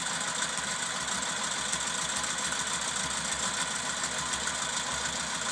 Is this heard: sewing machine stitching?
yes